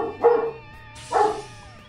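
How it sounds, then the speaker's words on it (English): A dog barks at night in two separate bursts, loud and fairly near, with steady quiet background tones in between. "Oh man, that dog, I'm telling you, won't even shut up."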